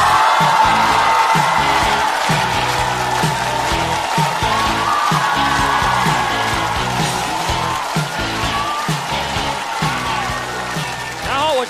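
Loud studio audience applause and cheering at a Chinese stand-up comedy show as a comedian is welcomed, dense clapping sustained for the whole stretch with a steady bright backdrop of whoops.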